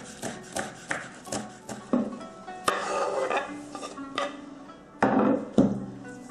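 A knife chops fresh dill, basil and other herbs on a board in a kitchen: irregular bursts of cutting strokes, close and fairly crisp, with short pauses between groups.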